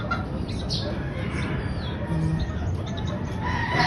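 Chickens clucking on a farm, small repeated clucks and squawks over a steady outdoor background, moderately near, no talk.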